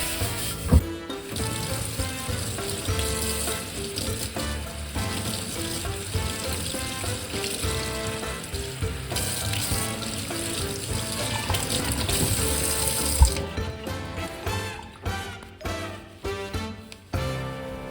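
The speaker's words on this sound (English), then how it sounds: "So now I'm just going to rinse it off and dry it." A water tap runs steadily to rinse polished brass after cleaning with Bar Keepers Friend, a continuous close hiss of splashing water with small knocks near the end.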